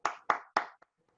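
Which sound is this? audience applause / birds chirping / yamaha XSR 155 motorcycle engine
audience applause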